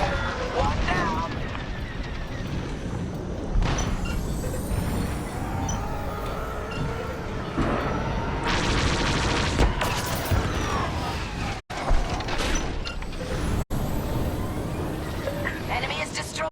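Star Wars space combat video game battle with explosions and gunfire: dense, continuous roaring blasts and rapid shots layered throughout, loud and close, with brief clipped dropouts and a game voice speaking over the action.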